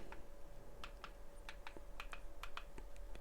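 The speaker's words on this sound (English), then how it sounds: "use the keypad to type stuff in" Soft, quick clicks of fingers tapping keys on a Smart Gamepad U6 keypad, an irregular run of a dozen or so light presses, faint and close against a quiet hum.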